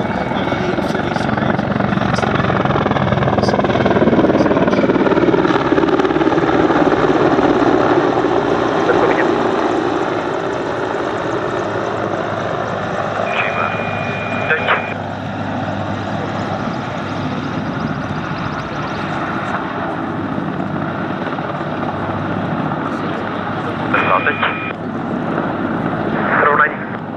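A Czech Air Force Mi-35 attack helicopter, export version of the Mi-24V, flies at the Duxford Battle of Britain Airshow with a loud, continuous rotor and turbine roar that slowly fades and shifts in pitch, while an announcer talks over it.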